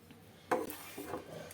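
Mixed dry fruits are stirred in ghee in a pan: a spoon scrapes and knocks against the metal a few times, faint and close, with no talk.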